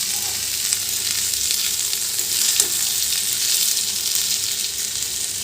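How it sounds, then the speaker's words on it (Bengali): Potatoes fry in a wok-style pan, cooked two pieces at a time, giving a steady, loud, close sizzle of hot oil that holds through the whole stretch with no talking. "এখানে হচ্ছে এখন আলু ভাজা।"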